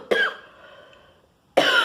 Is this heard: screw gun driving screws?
no